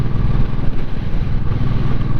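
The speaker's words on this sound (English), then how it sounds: "This is a cool sounding bike" A Shadow motorcycle engine drones loudly and steadily while riding, a deep continuous rumble with slight wavering, close and alone.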